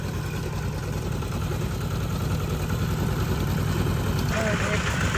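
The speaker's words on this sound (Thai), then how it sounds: "ตอนนี้ก็นั่งรถไถมาสื่อคล้องเนาะ" A farm tractor carrying passengers along a rural road in Laos during the rainy season. Its engine drones steadily and loudly up close, a continuous low rumble with vibration that never lets up.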